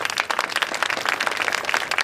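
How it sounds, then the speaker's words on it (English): Crowd applause at an outdoor mural unveiling honoring Wyclef Jean: dense, steady clapping from many hands, continuous and fairly close throughout, with no talk over it. "Yeah, he needs a round of applause for that"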